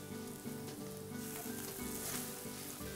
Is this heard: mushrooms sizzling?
yes